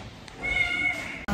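A house cat lets out one clear, fairly close meow, sustained for about half a second, with faint room noise before and a short bump of handling at the end.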